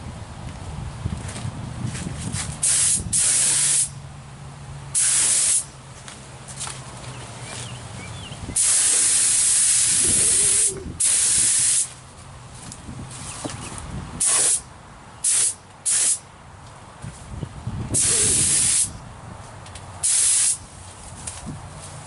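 A spray gun lays Sunrise Red paint onto a car fender in repeated loud hissing bursts, each lasting a second or two, broken by short pauses, with a low steady hum beneath.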